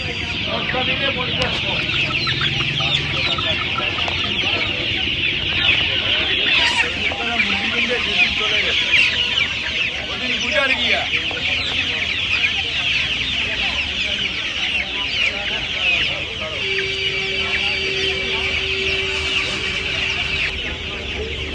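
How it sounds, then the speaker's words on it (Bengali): Chickens cluck steadily throughout, a busy flock close by at a poultry and pet market in Uluberia, India, including guinea fowl, with occasional sharper calls over a constant background din. "এখানে দেখতে পাচ্ছেন চীনে মুরগি আছে।"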